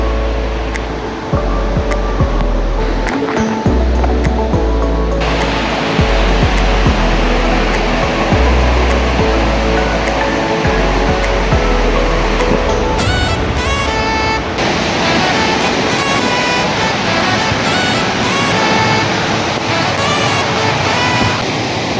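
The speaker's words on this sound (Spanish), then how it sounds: "Te sientes dentro de la cascada." Misol-Ha waterfall in Chiapas roars in a loud, steady wash of falling water heard up close from a camera in a waterproof case, with brief higher tonal sounds mixed in partway through.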